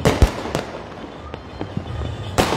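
Diwali firecrackers bursting over Una town during the festival, several sharp, loud bangs at irregular intervals with crackling and rumbling between them.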